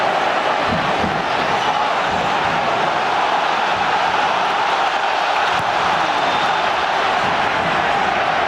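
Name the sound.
football crowd cheering after a Tottenham goal against Charlton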